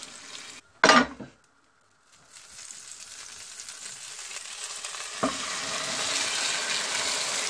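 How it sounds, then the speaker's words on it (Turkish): After a sharp clatter and a moment of quiet, potato börek starts frying in a pan with a steady, building sizzle up close. "Evet bir tarafının iyice kızarmasını bekliyoruz."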